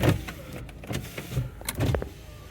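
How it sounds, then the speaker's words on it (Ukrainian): Kia Sportage power windows running, a series of short whirring motor pulses with clunks as each window stops, heard up close inside the car. "Підіймачі в нас працюють всі."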